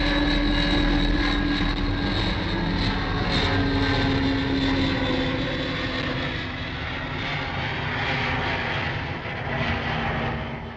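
A steady, droning propeller engine of a 1960s car-ferry airplane runs throughout, loud and continuous with a low hum and slight swells in level.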